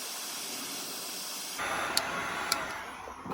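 Heat gun blowing hot air on a golf shoe's old spikes to loosen them, a steady close hiss that grows louder partway through, with a few faint clicks over the airflow.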